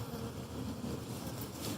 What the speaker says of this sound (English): There's a bunch of bees on this feeder